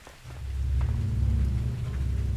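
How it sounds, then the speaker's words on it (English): Steady rain with a deep rolling thunder rumble in a video game, a loud continuous low roar that swells after the first moment and holds throughout. "there's no guarantee that this rain is water"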